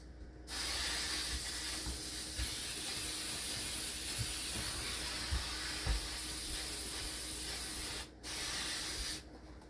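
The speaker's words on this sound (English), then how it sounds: "You're going to get you some spray." A steady aerosol cooking spray hisses into a 9x13 pan for several seconds, close and fairly loud, stopping briefly once before a final short burst.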